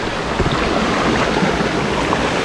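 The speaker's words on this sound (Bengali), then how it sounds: "যে ঝর্ণার পানি পড়তেছে।" Water pouring down at Khoiyachora waterfall, a dense and steady rushing roar heard close and loud, with no break.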